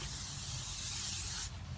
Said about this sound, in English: little bit more non-stick spray on there